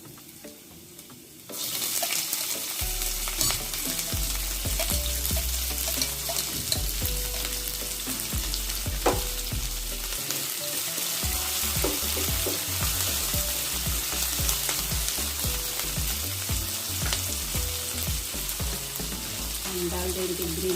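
Steady sizzling and crackling of onions frying in a hot pan with ginger paste, close and loud, running continuously with occasional stirring clinks and scrapes.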